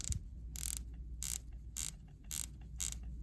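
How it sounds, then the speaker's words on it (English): A Rolex-style dive watch's rotating bezel ratchets in five short, quiet bursts of crisp clicking, evenly spaced about half a second apart, close up with no talk. "Listen to bezel action."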